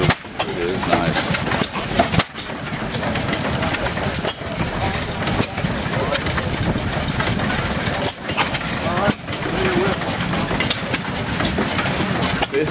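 A 25 HP Black Bear oil field engine on display at a gas up show runs at 180 RPM, a loud, steady, low chugging idle with regular beats and people talking nearby.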